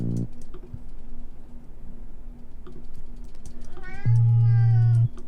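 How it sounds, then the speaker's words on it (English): A pet cat named Mike gives a short chirp at the start, then a loud, sustained meow about a second long near the end, against a quiet room with faint clicking in the background. "For those of you who don't know, this is my cat."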